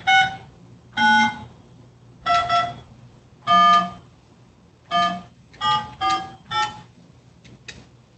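A telephone rings unanswered during a district court session, with repeated evenly spaced electronic ring bursts, loud and clear with short pauses between them and nobody picking up.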